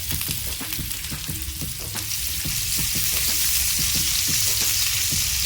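Chopped onion and whole garam masala frying in oil make a dense, bright sizzle, with regular low knocks of a spatula stirring the pan, close and continuous with no talk.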